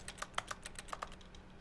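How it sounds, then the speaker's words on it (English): Rapid, quiet clicking from a character jumping in the video game The Stanley Parable, sounding like a burst of keyboard typing with irregular taps that fade out toward the end. "it sounds like I'm typing."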